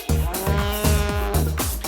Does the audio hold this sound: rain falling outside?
no